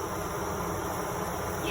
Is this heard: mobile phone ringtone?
no